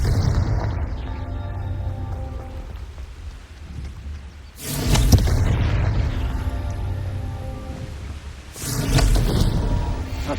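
Two heavy booms from a Confringo fire spell in Hogwarts Legacy on PS5, each a broad loud blast, one at mid-clip and one near the end, over a rumbling, rain-like ambient bed with no talk.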